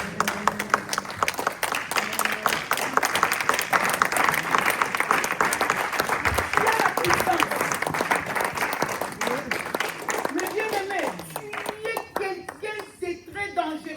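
A church congregation at a Sunday service bursts into sustained, loud applause that fills the room, dense and steady before tapering off as a preacher's voice rises over the fading clapping.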